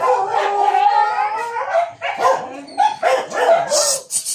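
Several dogs howl and bark together nearby in long wavering cries broken by sharper yips, loud and overlapping throughout.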